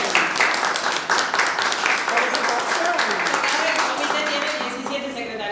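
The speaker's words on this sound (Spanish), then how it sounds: "un aplauso" Audience applause at a provincial committee gathering, dense clapping that starts loud and slowly tapers off over a few seconds, with no voices on top.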